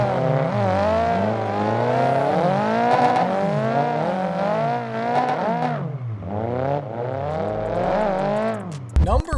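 A Nissan S13 drifting in Assetto Corsa screams at high revs, its engine note swooping up and down through gear changes and throttle lifts, loud and continuous, with tire squeal and a brief clatter at the end.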